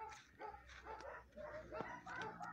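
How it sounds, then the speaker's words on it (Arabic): A Tibetan Mastiff at a dog farm gives faint, distant barks in an uneven series, with other farm animal sounds in the background. "هاد راه الماستيف دو تيبيت، دوك دو تيبيت"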